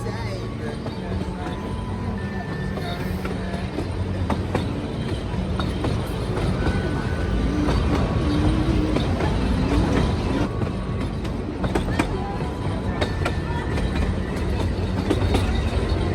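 The Puffing Billy steam train runs near a station with a continuous rumbling clatter of carriages and wheels, a loud, close and steady noise with people talking over it.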